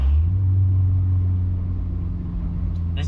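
A Honda S2000 sports car with VTEC cruising on back roads, its engine giving a loud, steady low drone and road rumble from inside the cabin, easing slightly toward the end.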